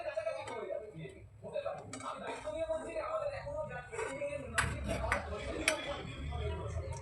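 Fried lentil pakoras being lifted out of a pan of oil, light metallic clinks and scrapes of a utensil against the pan, several sharp taps near the end, mixed under continuous speech and a low background hum.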